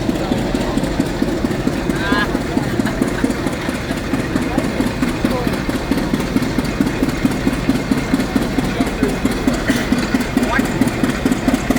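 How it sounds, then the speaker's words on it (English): An old Hart-Parr tractor from around the 1920s idles in a parade at Wolford, North Dakota, with a steady, even pulse of low engine thumps lasting throughout, under background voices. "Thanks for bringing that old tractor."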